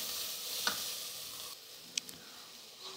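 Steady sizzling of onions frying until brown in a hot pan for mutton curry, a continuous close hiss with a few faint clicks and pops.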